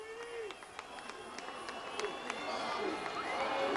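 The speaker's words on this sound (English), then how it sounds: "And the crowd is on their feet." A crowd at a CIF high school baseball playoff game between the RB Broncos and the Vista Panthers, with fans cheering and shouting. The crowd noise swells steadily toward the end, with scattered sharp claps and voices mixed in.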